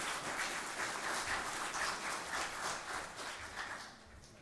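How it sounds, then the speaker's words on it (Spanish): Sustained audience applause greets a speaker at an evening lecture on customs-tax corruption offences, a dense steady wash of many hands clapping for several seconds, fairly even in loudness and tapering slightly at the end, with no talk over it. "quisiera que lo recibamos con un fuerte aplauso a nuestro expositor"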